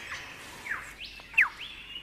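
A male lyrebird sings a varied run of whistled, sweeping chirps and sharp calls mimicking other sounds, moderately loud and alone in a quiet outdoor setting.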